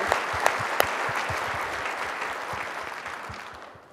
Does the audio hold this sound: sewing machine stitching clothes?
no